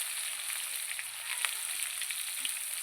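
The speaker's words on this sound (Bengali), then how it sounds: "আলুগুলো আমি খুব ভালো করে লাল লাল করে ভেজে নেব" Potatoes fry in hot oil with salt and turmeric, giving a soft, steady sizzle with faint scattered crackles and an occasional light stir, fairly quiet and without talk.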